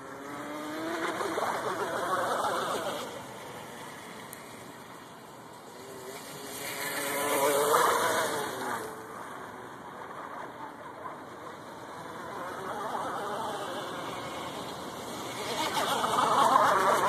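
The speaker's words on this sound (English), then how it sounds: "See, that brush motor can push a lot harder, but it doesn't get it going any faster." A homemade outrigger RC boat with a brushed electric motor runs on the water, its high motor whine rising and fading as it passes near and far, with wind and water noise throughout.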